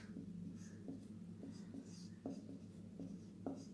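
Pen or pencil writing on paper while working through a grade 9 real-numbers math problem, giving soft repeated scratchy strokes over a low steady hum, with no talk.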